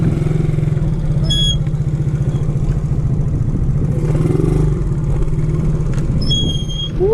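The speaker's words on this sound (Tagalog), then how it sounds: "Dirt bike." A dirt bike engine runs loud and close with a steady, rapid putter on a rural road in San Quintin, Pangasinan, holding constant as it passes, with faint squeaks and chirps at the edges.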